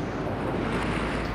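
Big, steady storm surf pounds a beach, a dense continuous roar of breaking waves mixed with gusty wind buffeting the microphone, with no voices.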